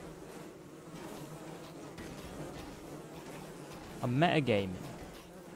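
Bees buzzing in Don't Starve Together, a low steady insect drone running under the game's ambient noise, with a person speaking briefly near the end.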